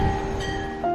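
A train heard for a brief moment, a steady rumbling run with sustained tonal whine and hum, fairly loud and without voices.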